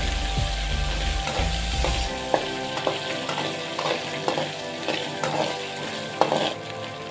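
Onions frying in a pan while cabbage sukka is being cooked: a steady close sizzle throughout, with occasional spoon clinks and stirring scrapes against the pan.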